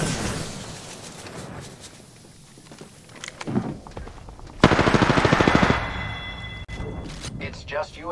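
Rapid automatic gunfire in the shooter game Apex Legends, a loud close burst of evenly spaced shots after quieter game noise and footsteps, with scattered shots following; a voice speaks over parts of it.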